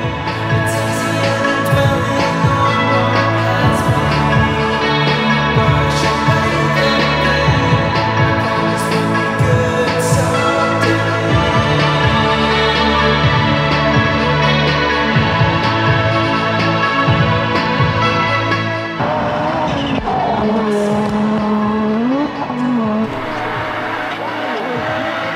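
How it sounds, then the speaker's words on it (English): An Audi Sport Quattro rally car version is driven hard, its engine roaring loudly and steadily with revving and shifting rises in pitch, tires squealing at times, with a brief change in the engine note near the end. "This is our version of the Audi Sport Quattro."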